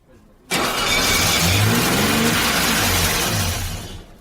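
Mercedes W123 engine, left 20 years in a damp garage, cranks and bursts into life after a brief pause, then runs loud and close at a high idle before fading slightly toward the end.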